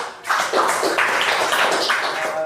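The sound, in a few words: applause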